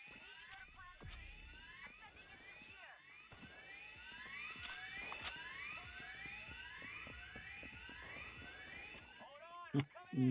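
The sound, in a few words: drill running in the video game Payday 3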